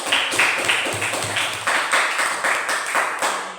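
A class in a maths lesson claps together in a quick rhythmic pattern, with crisp, close, repeated bursts of hand claps at a regular beat and almost no talk.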